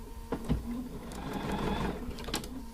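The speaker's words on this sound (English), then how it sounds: "I'm going to keep on sewing these Y seams" A sewing machine stitches Y seams on a small quilt top wall hanging, making a close, steady mechanical whirring run with a few clicks and taps around it.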